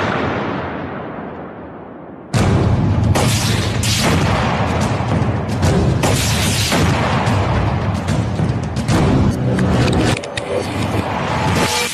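An RPG rocket grenade with a shaped-charge warhead fired at a tank protected by the Arena active protection system: a sudden loud blast, then sustained roaring detonations and rumbling booms that ebb slightly before a second surge near the end.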